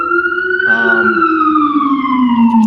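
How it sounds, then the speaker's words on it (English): An emergency vehicle siren wails steadily in the background, its tone sliding slowly downward, loud and continuous throughout with a brief rougher burst near the start. "it was always sirens in the background for sure"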